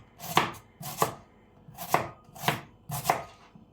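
A knife finely slicing an ingredient for chicken pastilla on a cutting board, five crisp separate chops at an even, unhurried pace, close and clear with no voices.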